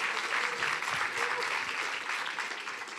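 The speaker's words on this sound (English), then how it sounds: "Let's give another round of applause for every single one of them who competed today." Audience applause for the competitors at the MIT $100K Accelerate event, a steady wash of clapping from a room of people, moderately distant and fading slightly toward the end.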